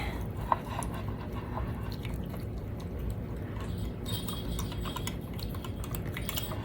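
A whisk stirs dried herbs and spices in a bowl, producing quick, light ticking and scraping clicks in an irregular steady rhythm, close and moderately quiet, with no talking.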